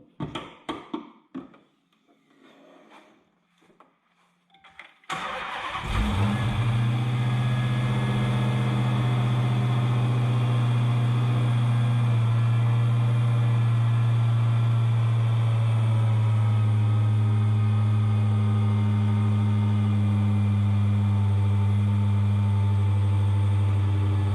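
A 2015 SRT Challenger Hellcat with a manual gearbox cold-starts after a few quiet handling noises, its supercharged engine catching abruptly into a loud, steady, deep idle that holds close and unbroken.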